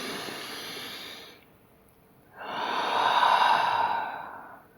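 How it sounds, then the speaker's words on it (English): A slow, deep breath: an audible exhale, a short pause, then a longer, louder inhale close to the microphone, with no speech. "so take a deep breath with me"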